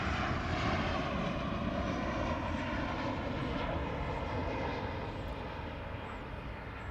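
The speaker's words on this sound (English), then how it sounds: "Right now passing behind me is the 737-700. The gear is extending." A Boeing 737-700 passes close by at Amsterdam Schiphol with its landing gear extending, a steady loud broadband jet engine roar that holds throughout and eases slightly toward the end, with no talking.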